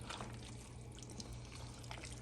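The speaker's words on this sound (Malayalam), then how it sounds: "ഇപ്പൊ വെള്ളം ഒഴിക്കും" Faint, soft pouring of boiling water into a mutton curry, a quiet trickling splash that continues steadily over a low background hum.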